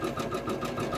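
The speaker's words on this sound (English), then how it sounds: "as it stitches, I'm going to try and make the yarn stay right in the middle" An embroidery machine sewing yarn down with a bean stitch, giving a fast, regular mechanical chatter of needle strokes with a steady motor hum, close and continuous.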